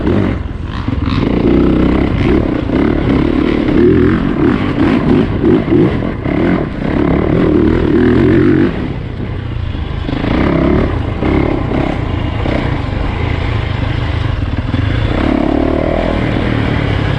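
A 2020 Yamaha YZ450FX dirt bike being test ridden, its four-stroke engine droning steadily with rising and falling throttle surges, loud and close throughout with wind buffeting.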